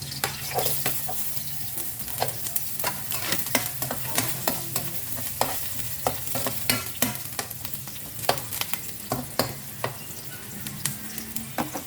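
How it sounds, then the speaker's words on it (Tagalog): Garlic and onion sauté in a pan for adobong sitaw, giving a continuous close sizzle and frying crackle, with repeated scraping stirs of a utensil against the pan at a steady rhythm. "Lagyan natin guys yung bawang, sibuyas,"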